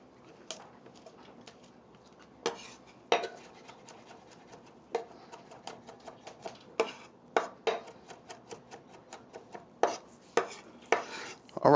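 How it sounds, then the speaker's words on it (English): A knife chops garlic on a cutting board, a run of crisp, close taps that starts sparse and grows quicker and denser, with no talking. "All right, so I got my other two finely minced"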